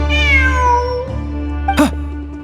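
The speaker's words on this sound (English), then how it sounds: "Look! A cat!" A cat in Genshin Impact gives one clear, close meow that slides downward, followed by a brief chirpy sound over a quiet, steady background hum.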